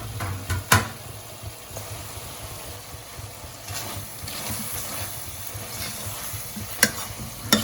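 Ground cumin and pepper frying in tempering oil for a Naidu-style mutton curry, a steady close sizzle with scraping stir strokes and a few sharp clanks of a spoon against the pan.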